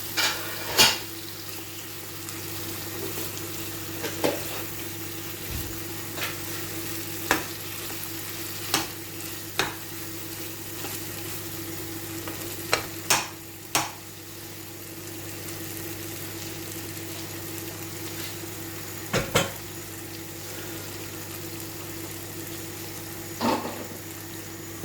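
Chicken bhuna with spices cooks in a pan with a steady, moderate sizzle and bubbling, broken now and then by sharp clicks and taps of utensils against the pan, heard close with no talking.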